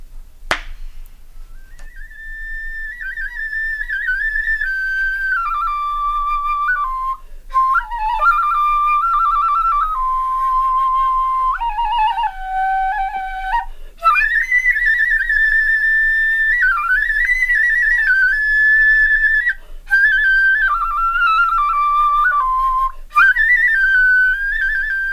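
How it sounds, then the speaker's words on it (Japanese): A solo flute plays a slow, continuous melody with long held notes and gliding pitch bends, clear and close throughout. "小春殿、ほら、そなたの笛の音で蛍があのように舞い踊っていますぞ。"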